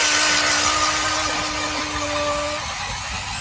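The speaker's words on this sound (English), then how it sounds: "We're gonna drill a hole." A loud HT E-Drill electric ice auger whines steadily as it bores through ice, with a sustained mechanical drone that shifts pitch slightly near the end.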